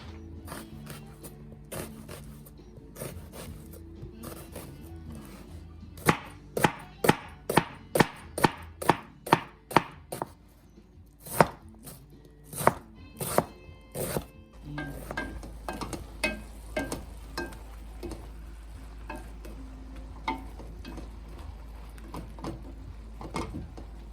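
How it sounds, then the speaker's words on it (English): A knife chops sweet Vidalia onions on a board in close, sharp strikes. They come in irregular bursts, then a fast run of evenly spaced chops, followed by quieter scraping and softer cuts near the end. No one speaks. "I'm just going to chop these up really good."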